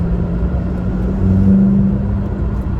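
A McLaren GT supercar accelerates hard to overtake on an open road, its engine a loud, steady droning rumble that swells slightly in pitch midway through, heard from inside with constant road noise and no talking.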